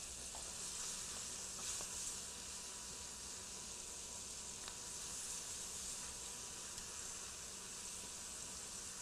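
Food sizzles in a hot frying pan, a continuous bright crackling hiss that stays steady throughout with a few small pops, fairly quiet and with no talking.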